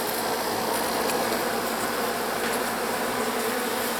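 Killer bees trapped inside a house make a dense, steady buzzing hum, loud and close, with no pauses and no voices.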